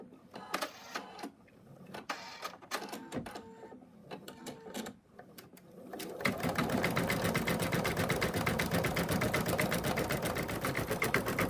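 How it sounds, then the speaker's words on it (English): An embroidery sewing machine stitches a small stuffed bunny in the hoop, starting with scattered short bursts of needle taps, then settling into a loud, steady rapid stitching rhythm for the last half. "And we're going to sew that."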